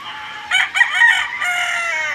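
A rooster crows loudly nearby, a long strained call with clucking chickens around it, no talking.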